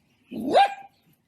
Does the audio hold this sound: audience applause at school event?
no